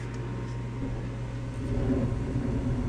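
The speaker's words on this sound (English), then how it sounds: "Excuse the noise, my furnace just kicked in." A home furnace runs with a steady, broad low rumble and an even airy hiss, close by and fairly quiet, with nothing else over it.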